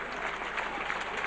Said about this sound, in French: Ce qui va déclencher quelques applaudissements